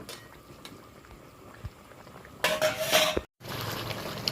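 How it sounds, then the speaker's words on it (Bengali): Potato curry bubbling in a pot on the stove: a quiet, low simmer that suddenly grows louder and hissier about halfway through, breaks off for a moment, then resumes with faint clinks of cookware. "এখন তরকারিটা ফুটুক"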